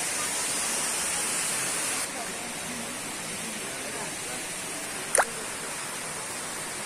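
A steady rush of falling water from a waterfall at Siloé fills the scene, a broad continuous roar, with a brief sharp sound cutting through once near the end.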